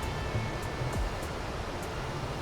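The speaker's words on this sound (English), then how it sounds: "Two waterfalls fall side by side through a curtain of jungle, crashing into crystal clear pool" Two waterfalls plunge side by side into a clear jungle pool fed by volcanic mountain springs in North Bali, making a steady, broadband roar of falling water that holds constant without pause or voices.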